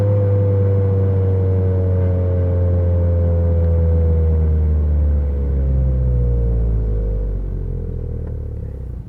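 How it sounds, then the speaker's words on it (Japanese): Honda FK7 Civic fitted with an HKS Hi-Power Spec L2 muffler, engine braking: a loud, steady exhaust drone with falling revs, heard alone and close throughout. "エンブレかけた時の音もすごく気持ちいいんですよ"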